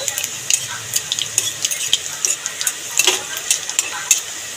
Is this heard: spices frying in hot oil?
yes